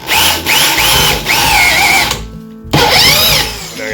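Power drill boring a hole into wood for a mortise, a loud, close motor whine that revs up and down in several bursts, briefly stops, then restarts at full speed.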